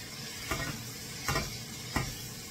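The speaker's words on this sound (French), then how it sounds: "On mélange ça comme il faut dans la poêle." Vegetables stirred in a frying pan, three soft scraping strokes spaced about a second apart over a faint, quiet sizzle.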